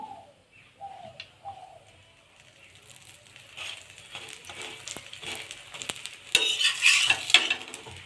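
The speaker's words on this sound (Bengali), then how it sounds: "উল্টে পাল্টে ভালো করে ভেজে নেবো" A green pea paratha sizzles in vegetable oil in a pan with occasional spatula scrapes and taps, the frying growing louder toward the end; a bird coos faintly at the start.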